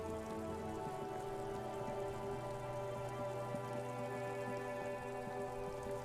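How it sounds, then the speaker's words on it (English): Steady rain falls in the video game Disco Elysium, a dense continuous hiss spread evenly throughout with no pauses, layered over a low sustained tonal hum from the game's ambience. "And then it rains."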